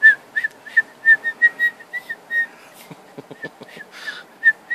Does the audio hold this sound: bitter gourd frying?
no